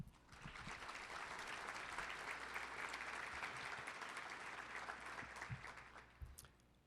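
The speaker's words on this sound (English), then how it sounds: "How about a round of applause for them?" Quiet, distant-sounding applause for a school music group at a chamber of commerce dinner, swelling to a sustained round of clapping and then tapering off, with a few sharper nearby claps and bumps.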